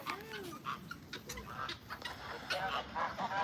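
Chickens and other fowl at an animal sanctuary cluck and squawk close by in scattered, overlapping calls, with honking goose-like cries mixed in.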